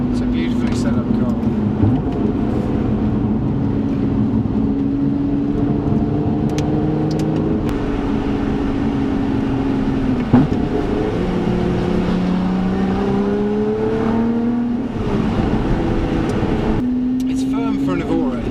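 Lotus Evora Sport 410 engine revs under load while the car is driven, a steady droning note rising and falling in pitch through the gears, heard from inside the car with a voice talking over it throughout.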